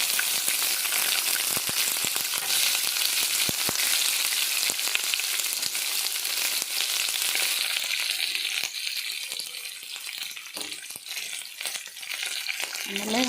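Sliced onions, curry leaves and green chillies sizzle steadily in hot oil in a pan for tomato gojju, with occasional scrapes and clinks of stirring, close and continuous.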